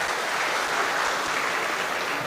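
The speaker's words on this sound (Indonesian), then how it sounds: "Tepuk tangan." Audience applause at a political party anniversary congress, a dense, steady wash of many hands clapping for a couple of seconds, loud and alone without talk.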